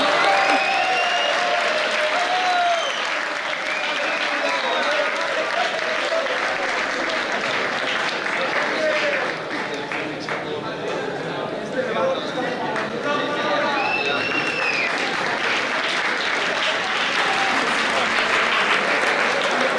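An audience at a university campus awards gala applauds loudly and continuously, with a dense clapping wash and an announcer's voice over it.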